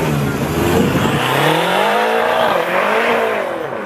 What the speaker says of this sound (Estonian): Ehk siis BMW M5 auto aastast 2012.